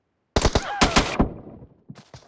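Automatic weapon fire in a video game: a sharp burst of several rapid, loud shots followed by a ringing tail, then a couple of softer distant shots.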